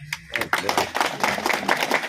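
A crowd at a political rally claps in a dense, moderately loud burst of applause that continues steadily after a few opening claps.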